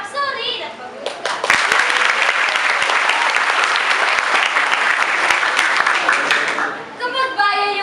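An audience at a Filipino balagtasan debate bursts into loud, sustained applause lasting several seconds, with a voice speaking over the clapping at the start and again as it fades.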